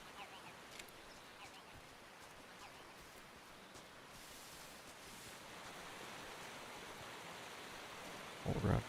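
A waterfall in the stealth game Metal Gear Solid 3 Delta roars as a steady, broadband rushing wash that swells slightly louder toward the end, with a brief close thump at the finish.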